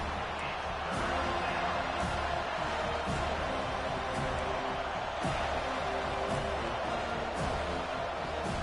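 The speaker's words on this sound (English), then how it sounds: "Decibels rising as the crowd gets behind this defense on 3rd down." Stadium football crowd roaring steadily and building behind the defense on a third down, a dense continuous wall of noise with scattered claps and thumps throughout.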